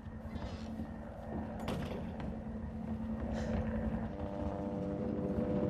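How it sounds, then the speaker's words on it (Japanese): A helicopter approaches in the survival horror game Resident Evil 2, a low, steady rotor drone with a humming engine tone that swells gradually louder over several seconds amid faint background clatter. "ヘリの音だ。"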